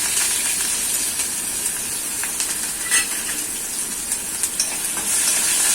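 Potato vada filling with ginger-garlic paste and curry leaves sautés in a hot pan, a close, continuous hissing sizzle with occasional faint spoon scrapes.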